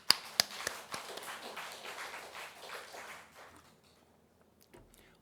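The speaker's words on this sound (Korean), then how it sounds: "박수." A church congregation at a Korean Sunday worship service breaks into a short round of clapping, starting with a few sharp claps before thinning out and fading to near silence.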